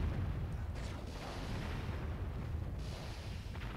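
Aerial attack explosions in the strategy game Warzone 2100 make a dense, continuous low rumble of booms and bursts that stays loud throughout with no pauses.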